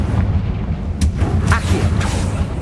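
Booming fire-spell blasts from the Confringo spell in the video game Hogwarts Legacy, several heavy explosive bursts over a dense, loud rumbling game soundscape with no break.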